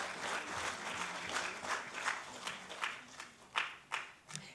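Faint applause from the audience at a business excellence awards ceremony at Vigyan Bhavan, New Delhi, a soft, steady patter with a few sharper claps standing out near the end.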